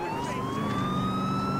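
Police car siren in the video game GTA IV, a steady rising wail sustained loud and close over continuous traffic and engine rumble, with no talking.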